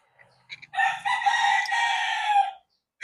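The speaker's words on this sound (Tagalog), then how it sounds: "Tilaop ng manok." A rooster crows once, a long loud cock-a-doodle-doo close by, with faint clucks just before it and quiet afterward.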